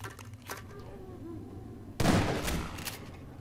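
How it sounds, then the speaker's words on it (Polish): A burst of gunfire in the video game Half-Life 2 cuts in sharply after quieter game sounds, a loud close shot with a ringing, decaying tail. "Dobra, jeden strzał wystarcza."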